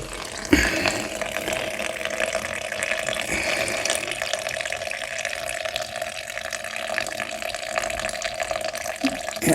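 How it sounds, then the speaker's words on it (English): Fuel drains from a Honda HS80 snowblower into a small plastic ice cream tub, a continuous trickling, gurgling pour with a sharp knock near the start and steady splashing throughout. "I can drain this into my little tub down here, little ice cream container"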